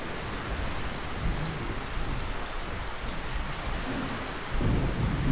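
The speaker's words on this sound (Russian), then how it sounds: "Снег с дождем" Steady heavy sleet and rain with rumbling thunder in a video game (Metro 2033), a continuous dense wash of noise that swells slightly near the end.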